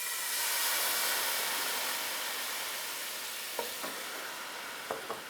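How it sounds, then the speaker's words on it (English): Brandy hits a hot pan of shallots and bursts into a loud steamy hiss that slowly settles, followed by a few light clinks of a utensil near the end. "I'm going to add a little bit of brandy, so just enough to cover the bottom of the pan"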